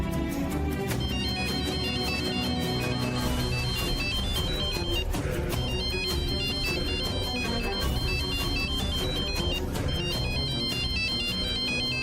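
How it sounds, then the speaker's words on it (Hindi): A phone ringtone plays continuously as a call is placed, a repeating electronic melodic pattern over a steady musical backing, loud and uninterrupted throughout with no talking. "मैं मिस्टर खुराना को फोन लगाती हूँ, 1 मिनट"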